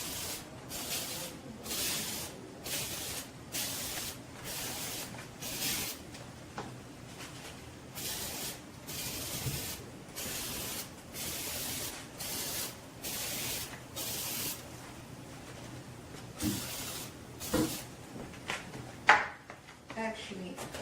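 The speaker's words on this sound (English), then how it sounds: "Spray on the frames." Repeated short bursts of kitchen cleaner sprayed from a trigger bottle onto kitchen cabinet frames, a steady run of close, hissing squirts with brief pauses between them, with some rubbing and handling noise near the end.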